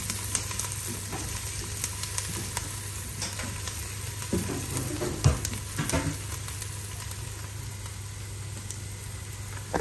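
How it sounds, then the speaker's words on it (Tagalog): Onions brown for pork menudo with chicken liver, frying in a pan with a continuous close sizzle, scattered stirring scrapes and a low steady hum underneath. "Nagba-brown na yung sibuyas sa kabaw."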